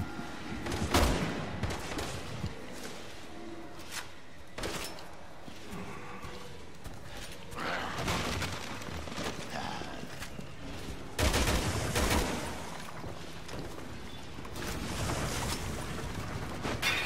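Gunfire in Resident Evil 6, bursts of sharp shots and rapid volleys scattered across a rumbling game soundscape, fairly loud and spaced irregularly.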